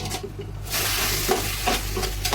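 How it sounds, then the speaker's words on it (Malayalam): Salted chicken pieces being stirred in a pan with a spoon, a steady sizzle running underneath and a few clear scraping strokes standing out close up. "ചിക്കനിലേക്ക് ആവശ്യമായ ഉപ്പ് ചേർത്ത് കൊടുക്കാം. നന്നായിട്ട് ഇളക്കി ചേർത്ത് കൊടുക്കാം."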